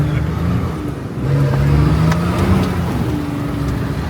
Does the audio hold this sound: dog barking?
no